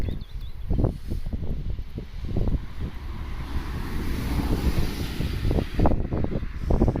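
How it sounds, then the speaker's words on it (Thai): Strong wind blows while someone picks mushrooms outdoors in a cold country, with loud, gusty rushes and buffeting bursts against the microphone for about seven seconds. "ลมก็แรงแรง"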